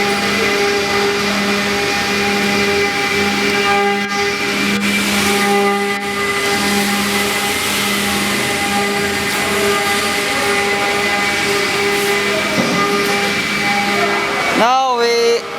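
A two-spindle 1325AS2 CNC router runs with a steady mechanical hum, sustained whine and hiss, and a voice briefly speaks near the end.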